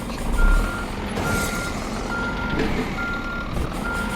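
A truck in the On The Road truck simulator game drives over grass with an engine rumble while steady reversing beeps repeat throughout, loud and continuous, with no talk.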